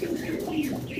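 Lahori pigeons cooing steadily and close by, a low throaty warble that rolls on continuously for the whole second with no talking over it.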